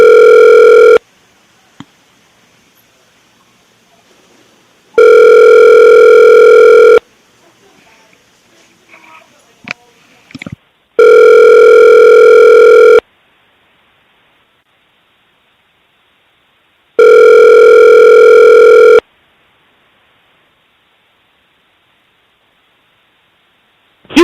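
During a phone call, a telephone ringback tone sounds loud and steady in four evenly spaced two-second bursts. A short stretch of faint line noise and clicks falls between two of the bursts.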